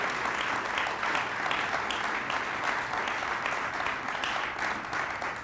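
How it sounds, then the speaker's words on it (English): An audience at a community event claps steadily throughout, a dense, sustained round of applause from a crowd in a hall, with no talking over it. "Let's clap about that too."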